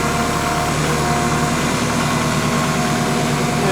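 A Kubota M5660 SU tractor engine runs steadily at low RPM while reversing, a loud, constant droning hum with no change in pitch and no voices.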